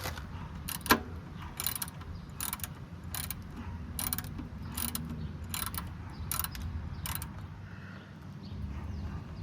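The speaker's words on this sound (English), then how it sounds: "we need to take off this oil filter so it can drain better" Metal ratcheting and clicking bursts as tools work loose an oil filter under a van, quiet and close, in repeated short spurts over a low background hum.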